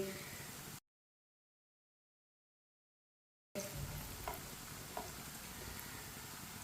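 Chicken pakora frying in hot oil gives a steady crackling sizzle that cuts out for a few seconds mid-clip, then resumes with a few sharper pops.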